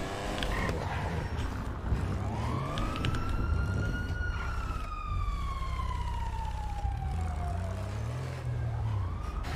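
Police car siren in GTA V, a loud electronic wail that sweeps up and down continuously for the whole stretch, close and dominant with game engine rumble underneath.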